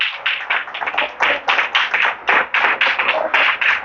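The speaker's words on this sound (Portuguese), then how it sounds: "Pode aplaudir bem forte a Deus" A church congregation claps hard in a fast, even rhythm, each sharp burst of hand claps following closely on the last for a few seconds.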